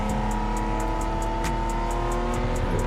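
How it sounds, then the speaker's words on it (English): A VTEC car engine in Gran Turismo 7 holds a high, steady rev with a strained buzzing tone, sounding close and continuous throughout. "It is a VTEC, so it wants to be in those high RPMs."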